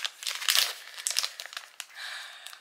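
Plastic packaging holding a Honda key ring is crinkled and torn open up close, a steady run of sharp crackling and crumpling with bursts of rustle and no talk.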